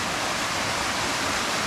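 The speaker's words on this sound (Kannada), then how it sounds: "This is the foil." Jogi Gundi waterfall roars as a steady, dense rush of falling water, loud and close, with no voices heard.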